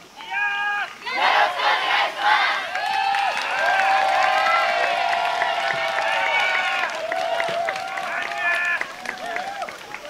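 A large crowd cheers and shouts with rising energy at a yosakoi dance festival in Tochigi, a loud, sustained roar of many voices with high calls and whoops carrying across the whole stretch.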